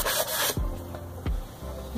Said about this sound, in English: Just gonna give them a good sand.